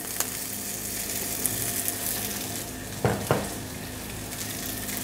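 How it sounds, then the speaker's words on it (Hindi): Noodles dropped into a pan of sautéed garlic set off a steady, close frying sizzle with brief louder crackles partway through; no one speaks. "अच्छा जी गार्लिक हो गया हमारा सोटे अब इसमें हमने न्यूडल डाल देने हैं"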